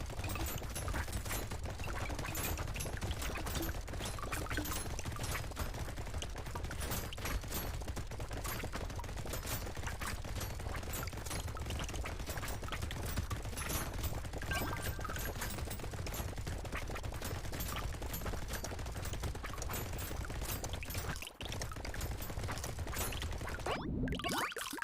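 Rapid, continuous minigun fire in the top-down arena shooter Brotato, a dense, steady stream of shots with mechanical whirring that runs nearly unbroken for the whole stretch before cutting off briefly near the end.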